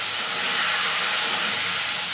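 Diced potatoes and chopped green chilli hit hot oil seasoned with panch phoron, giving a loud, dense, steady sizzle and hiss that holds without a break.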